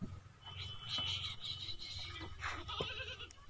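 Goat bleating over a low rumbling background, a few drawn-out wavering calls spread across the few seconds.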